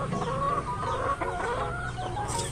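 A flock of chickens clucking at feeding time, including hens, with turkeys nearby; steady, dense clucking close by over a low background murmur.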